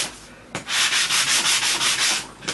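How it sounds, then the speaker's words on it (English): Rapid back-and-forth rasp of sandpaper rubbing an embossed paper card layer, about eight quick strokes in a steady rhythm, close and loud, with a sharp tap at the start and end. "I'm taking my matting basic and I'm going to do some sanding"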